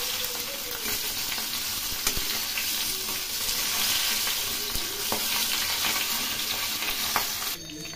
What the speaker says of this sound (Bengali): এদিকে মাছের মাথাটা আমি ভেজে নিচ্ছি